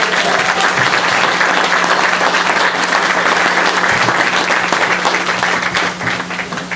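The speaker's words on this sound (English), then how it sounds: "Let's give a round of applause" Sustained applause from a large crowd at an outdoor groundbreaking ceremony, a dense wash of clapping hands that holds steady and begins to taper slightly at the end.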